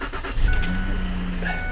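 A Ford Taurus engine starts and settles into a steady idle, a low rumble holding close and even after the initial crank, with no talking.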